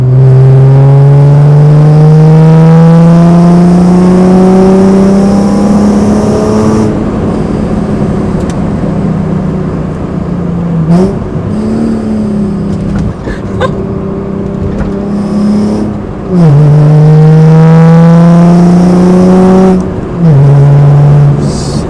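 BMW E36 fitted with a Supersprint race exhaust accelerating hard in third gear, a loud close engine note rising steadily in pitch over several long pulls, with brief drops at the shifts and no talking.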